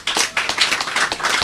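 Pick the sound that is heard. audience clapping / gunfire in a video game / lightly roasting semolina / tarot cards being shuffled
audience clapping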